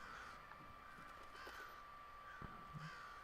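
Crows cawing in a steampunk Victorian city in the PS3 game Thief, a few harsh calls scattered over a steady ambient hum, with no talking.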